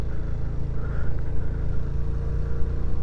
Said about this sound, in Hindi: भाई गाड़ी चढ़ा रहा है ऊपर